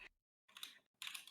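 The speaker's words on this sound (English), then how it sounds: "You hear that? That's a new keyboard." Clicky keystrokes on a new computer keyboard, two short bursts of quick typing close to the mic, with no talking over them.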